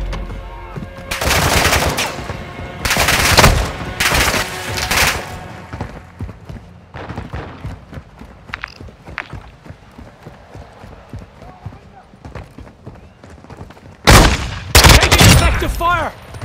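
Loud, close automatic gunfire from the video game Call of Duty: Modern Warfare 2, several heavy bursts separated by quieter stretches of scattered shots and movement, ending in a final strong volley.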